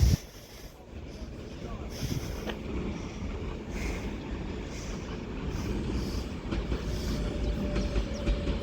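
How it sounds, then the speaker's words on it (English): An Avanti Pendolino electric train, unit 390-126 bound for London Euston, pulls into a platform at Crewe with a steady rumble and a faint rail hiss, while a voice talks over it. "now arriving into platform 5 up at the top bound end. It's going to be another Avanti Prideolino for London Euston from Liverpool Lime Street."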